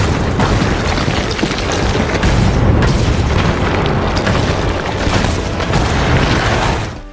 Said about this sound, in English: Suddenly, a shell struck,